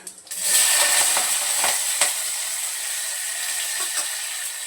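Cumin seeds, garlic and curry leaves hit a little hot oil in a heated pot for a village-style drumstick amti, giving a loud, steady sizzle and hiss that settles slightly after a sharp start, with a few stirring clicks.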